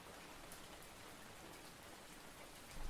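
Steady rain falls outdoors in a continuous soft hiss, even and moderate throughout with a slight swell at the very end; no voices are heard.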